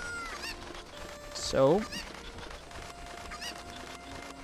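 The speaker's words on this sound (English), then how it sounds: "My cuckoos have run away." Cuccos, the chickens of Ocarina of Time, let out a quick burst of squawking clucks over game music, with someone briefly speaking.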